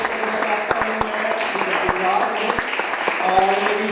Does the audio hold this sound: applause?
yes